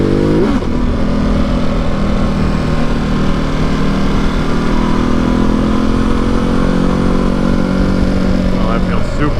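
A Ducati Multistrada Enduro on off-road knobby tires is ridden into a corner. Its engine drones steadily and loud at close range with wind rush, and a rider's voice is heard over the machine.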